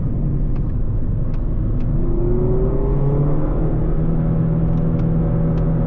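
A Mazda ND Miata drives downhill on worn tires, its engine a loud, steady drone from inside the cabin, with smooth tonal whine shifts over a constant road rumble.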